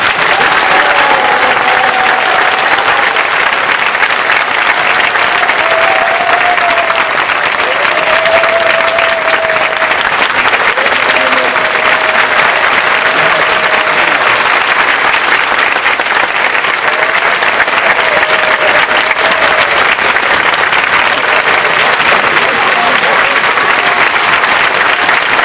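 A class audience claps continuously and densely for about half a minute, loud and close, with faint voices underneath.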